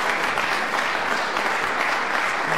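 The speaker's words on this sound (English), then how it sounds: "he deserves that round of applause" Steady, dense applause from a snooker audience at the 2012 UK Players' Tour Championship final, honouring Rod Lawler's win over Marco Fu, sustained and even throughout with no pauses.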